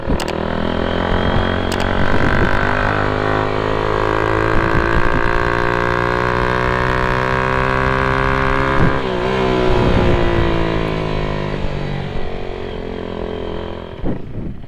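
A Hi Speed Infinity 150 motorcycle pulls away in first gear, its engine note rising steadily and loud and close for the whole stretch, with a brief dip and recovery partway through as it slows for a speed breaker.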